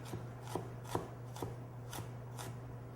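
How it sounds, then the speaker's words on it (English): A knife slicing a vegetable lengthwise on a cutting board while prepping kimchi, six evenly spaced soft chops with a low steady hum underneath, close and quiet. "For much easier cutting, I'll cut it lengthwise a little bit."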